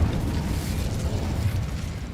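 A fire spell cast in a Harry Potter video game bursts with a dense, roaring whoosh of flame, loud and sustained for about two seconds with no talking.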